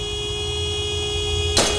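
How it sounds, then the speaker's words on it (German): A picture in the horror puzzle game Nevermind gives off a honking tone, a steady drone through most of the moment that swells into a louder, brighter blast right at the end. "Das Bild hupt."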